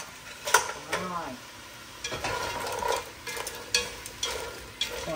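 Crab stirred with sugar in a pot for a sour soup, scraping and clinking of the utensil against the pot over a light sizzle, in short repeated strokes, close and moderately loud.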